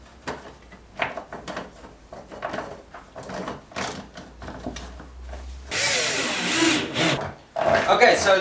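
A power drill whirs in a short burst as screws are driven into wooden planks for a soundproof compressor enclosure, preceded by someone talking and some knocking.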